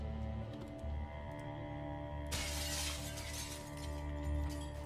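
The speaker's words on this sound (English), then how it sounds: "Love just smashing in tree or smashing windows." Windows being smashed in the video game Project Zomboid: a sudden bright glass shatter bursts in midway and rings out over a steady game background hum, with no talk over it.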